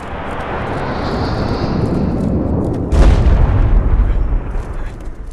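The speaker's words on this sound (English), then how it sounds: "Airstrike called." Airstrike explosions in the shooter game Modern Combat 5, a rumbling jet-like roar building for a few seconds before a heavy boom bursts in and keeps rolling loudly.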